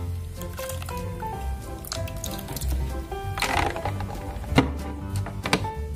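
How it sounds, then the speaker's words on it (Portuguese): Doll hair gets dunked and squished in ice water mixed with fabric softener, giving wet sloshing and dripping sounds with small clicks, while voices murmur faintly in the background. "E agora a gente vai colocar elas na água com gelo e amaciante."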